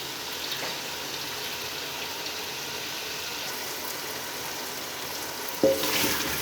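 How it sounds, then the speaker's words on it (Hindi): Taro root (arbi) pieces fry in ghee with a steady, close sizzle that crackles evenly throughout, and a sharp clatter of a utensil against the pan comes near the end. "अरबी को हल्का फ्राई कर लेते हैं। फ्राई करने से इसका बहुत टेस्ट लाजवाब होता है।"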